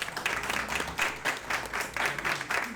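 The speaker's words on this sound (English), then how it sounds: "let's give it a round of applause to our candidates for being here today." Audience at an inclusive future forum applauds the candidates, a continuous round of moderate, fairly close clapping with rhythmic swells, no talking over it.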